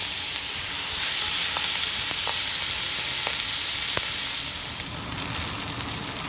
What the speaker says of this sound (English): We're going to go ahead and add our steaks. Go ahead and sear them for about 2 minutes per side.